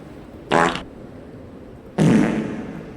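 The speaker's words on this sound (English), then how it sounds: "The fart with reverb." A cartoonish fart sound effect with a reverb tail plays twice, a short burst and then a longer one about a second and a half later, each ringing out briefly against a quiet background.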